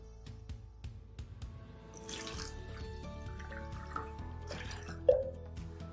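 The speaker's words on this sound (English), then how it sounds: "maybe it's the way I'm pouring it" Bottled water poured into a glass, with steady liquid filling and a few bright drips, faint and close against a quiet background.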